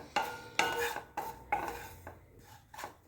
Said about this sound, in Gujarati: એને ધીમા તાપે સરસ શેકવાનો છે.